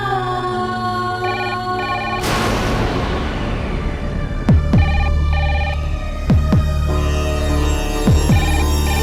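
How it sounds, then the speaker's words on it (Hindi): A telephone rings in a home during a Rakhi day family scene, its electronic tone sounding repeatedly over a sustained musical drone, with swelling swooshes and low thumps of dramatic score around it. "कहीं अनमोल का फोन ना हो"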